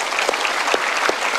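Studio audience at a televised talk show applauding, a dense, even roar of many hands clapping that holds steady and loud throughout.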